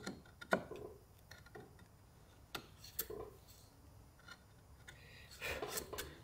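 Gouge cutting into wood in a vise, working around a center: a series of irregular scraping and rasping cuts with sharp ticks, moderately close, with a burst of quicker scraping near the end.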